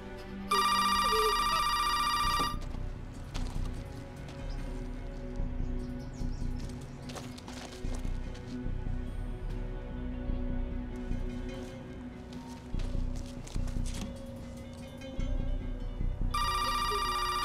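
A telephone rings unanswered in a suspense thriller scene, with a loud burst of ringing at the start and again at the end, separated by a stretch of tense music and scattered noise.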